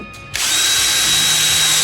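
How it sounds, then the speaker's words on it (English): A power drill spins up sharply and whines steadily at close range as it bores through a contact poi ball, loud and continuous after a brief quiet start. "you can start with the drill on the hole"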